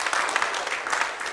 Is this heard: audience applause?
yes